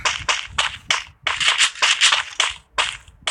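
Rapid gunfire from the video game Free Fire comes in sharp, bright bursts of shots, some in fast strings and some as single cracks, loud and close with brief gaps between volleys.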